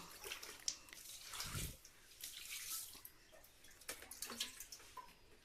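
Water splashes and trickles onto a floor beneath a bed during cleaning, soft and fairly faint, with a brief louder gush early on followed by scattered drips and splatters.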